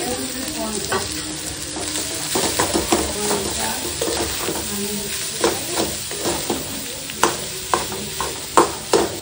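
Chopped small onions and cooked rice frying together in a pan, a loud close sizzle under busy stirring, with sharper scraping knocks growing more distinct toward the end.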